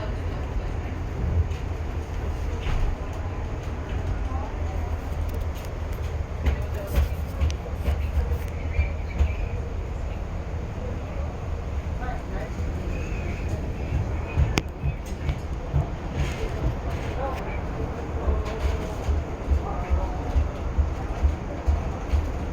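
Amtrak California Zephyr train number 6 rolling along its rails near Glenwood Springs, Colorado, a steady low rumble with light rhythmic clatter and occasional sharp squeaks, heard from inside the train.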